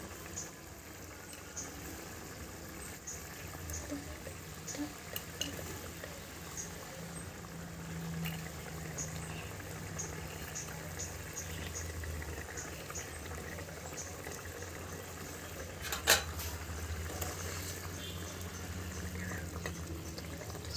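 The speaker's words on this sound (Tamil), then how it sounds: "இப்போ குழம்பு நல்லா கொதி வந்துச்சு. இப்போ வந்து மீன் போட்டுடலாம்." Odisha-style fish curry boiling steadily in a pot, a soft continuous bubbling and hiss that stays faint and even throughout, with no voices.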